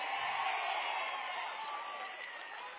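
Loud, continuous roar of a large crowd at a protest gathering, dense clapping and cheering blended into a steady wash of applause.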